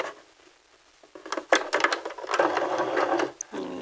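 Home sewing machine straight-stitching dress fabric at 2.5 stitch length, quiet handling at first, then a close, whirring run of rapid needle strokes that stops briefly and resumes.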